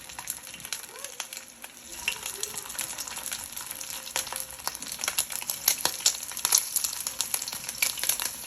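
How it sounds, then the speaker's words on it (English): Smoked fish frying in hot oil, a soft hiss that swells into a louder, busy crackling sizzle with sharp pops, close and steady. "when your oil come up to a nice hot temperature, you're gonna place your fish in there"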